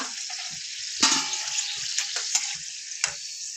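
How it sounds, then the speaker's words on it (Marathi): Puris deep-fry in hot oil for an aamras-puri meal, a loud, dense bubbling hiss with a few sharper splashes and pops as the dough moves in the oil, close up and without talk. "आपण बाकीच्या पुऱ्या पण ना अशाच तलून घेऊ"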